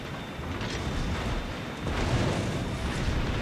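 Heavy guns of the battleship Gneisenau fire high-explosive shells in World of Warships Legends, giving a continuous deep rumbling roar that swells louder toward the end.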